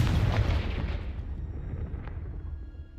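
A Confringo blasting spell in Hogwarts Legacy detonates with a heavy, rumbling boom that trails off into a fading low rumble and debris.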